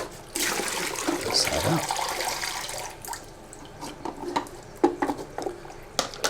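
Water running into and rinsing a film developing tank at home, a gushing splash for a couple of seconds followed by clinks and knocks of the plastic tank, with a voice talking briefly near the start.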